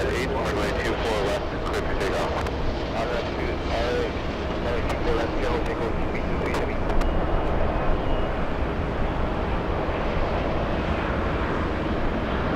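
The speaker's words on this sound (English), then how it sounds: "We also have KLM getting very close." A KLM airliner approaches Los Angeles airport, a continuous broad engine roar holding steady and fairly loud, with no voices.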